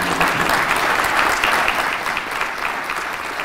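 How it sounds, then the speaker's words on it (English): An audience at a medical school white coat ceremony claps for student doctors, a dense, even wash of applause that fades slightly toward the end. "Please join me in giving them another round of applause."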